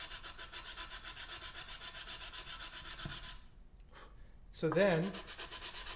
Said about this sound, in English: I have to sand